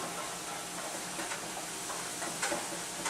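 Chopped onions sweat gently in a little olive oil, a wooden spatula stirring them now and then; a soft, steady low sizzle runs throughout with faint scraping and tapping strokes, close by and alone.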